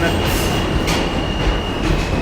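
Train rumbling past near the Brooklyn Bridge in New York, a loud, close, continuous roar with rattling wheels and a faint steady whine, filling the whole moment.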